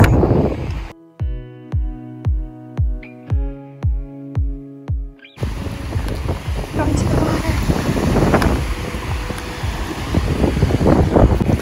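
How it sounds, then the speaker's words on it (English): Wind at the beach roars into the microphone as a dense, gusty rumble, loud and close, following a short burst of rhythmic musical tones, with speech faintly mixed in. "Windy day, oh, at the beach with Nala."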